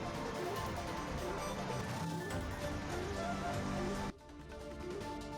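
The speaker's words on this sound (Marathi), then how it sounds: "पाथऱ्यांमध्ये जोरदार पाऊस कोसळलाय" Heavy rain pouring steadily in a steady broadband wash, continuous and dense, with a sudden drop in level near the end before the downpour resumes.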